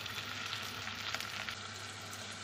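Chilli powder and chopped coriander leaves sauté in oil in a pan, a continuous soft sizzle with a few faint stirring scrapes, steady and uninterrupted.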